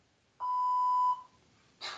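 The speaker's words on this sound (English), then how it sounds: "the beep was too late" A single electronic beep, a clear steady tone lasting under a second, sounding alone in near silence and followed by a short burst of breath-like noise.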